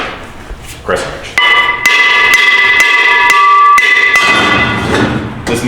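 An adjustable hammer clangs repeatedly on metal in a workshop during a transmission bell housing job, a run of sharp ringing strikes at a quick, slightly uneven pace, loud and close with a metallic ring between blows.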